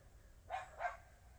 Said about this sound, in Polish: wszystkie psy w okolicy nagle robią wielkie szczekanie